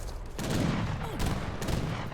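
Arquebusier infantry volley in Age of Empires 3: a dense crackle of overlapping musket shots over a steady battle din, continuous throughout with a few sharper bursts.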